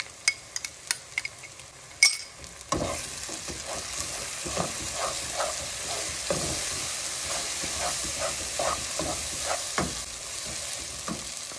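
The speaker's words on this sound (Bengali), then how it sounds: "পেঁয়াজটা ভাজা হয়ে গেছে, এবার আমি মশলাটা দিয়ে দেব।" Onions frying in a pan as a mix of ginger, cumin, coriander, chilli powder and garlic is added: a few sharp clinks and stirring scrapes give way to a sudden louder sizzle, then steady frying punctuated by rhythmic stirring.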